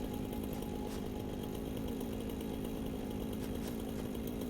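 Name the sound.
chainsaw noise in video game Satisfactory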